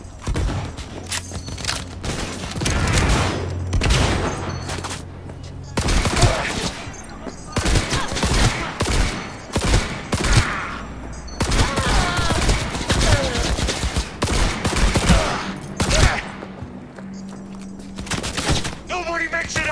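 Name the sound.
gunfire in the video game Cyberpunk 2077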